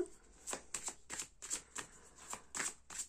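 A tarot deck is shuffled by hand at close range, with about ten crisp riffling bursts in a steady rhythm and no talk over them.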